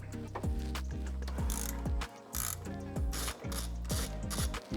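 A socket ratchet removing the thermostat housing bolts on a car engine, heard as fast, close, rhythmic clicking bursts with brief pauses between runs, loud and with no talking.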